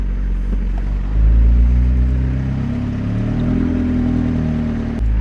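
A McLaren 720S Spider supercar engine rumbles at idle, swells briefly with a deeper rev around the start, then settles into a steady low hum, close and loud with no talking.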